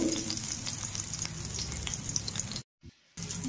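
Chopped ginger and whole spices frying in hot oil in a pan, a steady close crackling sizzle that cuts out briefly near the end before resuming.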